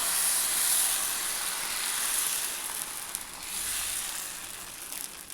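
Dosa batter sizzling and hissing on an oiled pan, a steady close frying sizzle with a bright high hiss that swells and eases slightly throughout, no voices.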